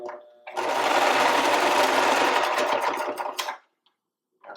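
A home sewing machine stitches a cloth diaper in one loud, steady buzzing run of about three seconds, then stops; a voice is heard near the machine.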